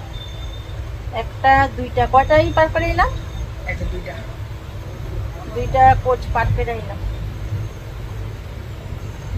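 Inside a moving passenger coach, a steady low rumble of the running train continues throughout, with someone talking over it in two bursts.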